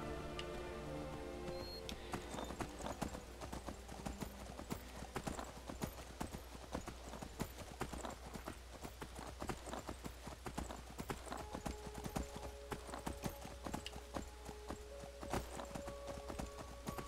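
Horse hooves in Skyrim clip-clop steadily and quickly, drawing closer over a rain-like wash and sustained game music, with a brief whinny.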